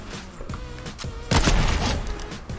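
Fortnite gunfire at about 50 meters, with one loud sharp shot around the middle followed by a decaying rumble over quieter game ambience and faint thumps.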